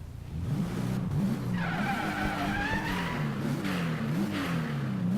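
A car in the Driveclub racing game drives under a steady engine drone, with a turbo whistle rising and falling over it and tires skidding through the middle of the run.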